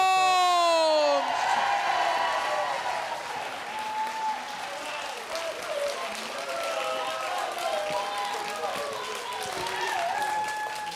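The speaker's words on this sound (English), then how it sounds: "give a big round of applause, please, for the man who holds it all together" Studio audience applause and cheering for the host of a BBC National Lottery game show, a dense, sustained wash of clapping with whoops, rising over a closing musical sting and holding steady, while a voice speaks over it.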